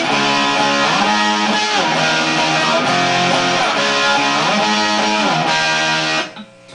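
Distorted electric guitar power chords play the intro of a song, loud and driving with steady rhythmic chord changes, then cut off abruptly near the end.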